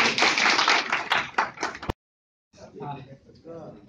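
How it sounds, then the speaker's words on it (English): A single sharp hand clap rings out after a stretch of people talking, followed by a moment of silence and then more voices. "Make a clap."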